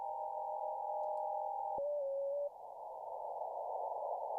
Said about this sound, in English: This is definitely FT4.